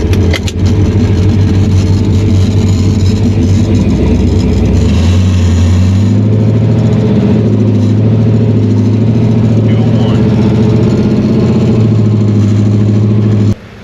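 A 1969 Camaro with a ProCharger supercharger drives along, its loud engine droning and rising in pitch as it accelerates, heard from close up, likely from inside, and cutting off abruptly at the end.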